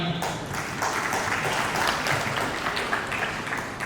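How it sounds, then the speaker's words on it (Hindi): An audience claps loudly and continuously at the Jammu Ratna Awards 2022 event, a dense sustained wash of applause that carries on with no pause for the full stretch. "एक बार अपने लिए तालियां।"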